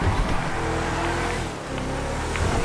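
A car driven fast in the FiveM game, its engine droning steadily and loud, with a brief dip in the middle before picking up again.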